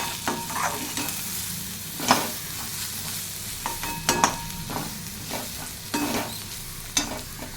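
Spice powder being stirred into a mixture in a pan, with scraping stir strokes at irregular intervals over a low steady sizzle, fairly close, without speech.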